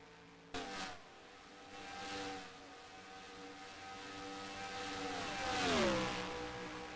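Simulated NASCAR race cars in the NASCAR Racing 2003 video game, engines droning with rising and falling pitch as cars pass, a steady whine building toward a louder sweep near the end.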